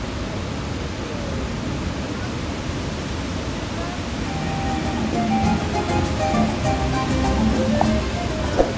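Broad, steady roar of rushing water at Victoria Falls, a dense wash that swells slightly louder toward the end, with faint voices underneath.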